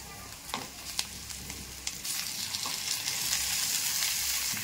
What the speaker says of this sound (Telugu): ఇలా జీడిపప్పు కూడా వేగిన తర్వాత టమాటా ముక్కలు వేసుకున్నాను